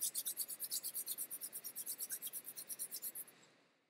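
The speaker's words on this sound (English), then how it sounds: "place your hands together in front of your chest and start rubbing them" Two palms rub together briskly in a steady back-and-forth rhythm of quick, hissing strokes that fade out at the end, soft and close in a quiet room.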